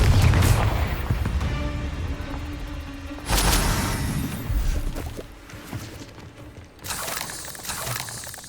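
Confringo explosive spell from Hogwarts Legacy: sharp blasts land about three and a half seconds apart, each a crashing boom with shattering debris, surrounded by a lower game-world rumble.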